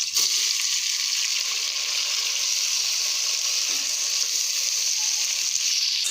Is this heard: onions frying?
yes